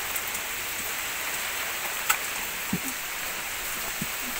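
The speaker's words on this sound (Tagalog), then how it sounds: "Lakas ng ulan, no?" Heavy rain falls in a steady, dense hiss that continues without a break, with a few louder drops and taps standing out close by.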